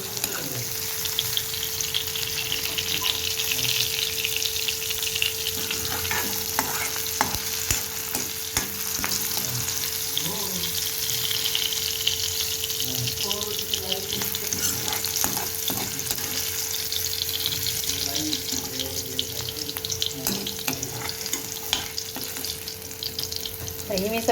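Vegetables for pav bhaji crackle and sizzle continuously in a frying pan for a long stretch, with scattered stirring clatter over a steady low hum.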